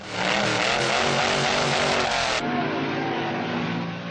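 Old-time dragster engine roaring at full power as it accelerates down a quarter-mile drag strip in England, a loud, sustained, dense mechanical blare that shifts pitch partway through without letting up.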